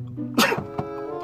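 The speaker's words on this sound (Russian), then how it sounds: "чихну." A single sharp sneeze bursts out close to the microphone, preceded by a brief intake of breath and followed by a short throaty after-sound.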